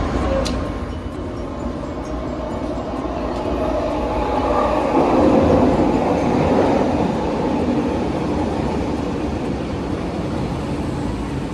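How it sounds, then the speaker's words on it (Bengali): Steady rumble and rattle of a metro train in motion in a downtown area, a continuous rolling roar that swells slightly midway, heard from inside the carriage. "তো তাই জন্য আজকে মেট্রো করে ঘুরবো"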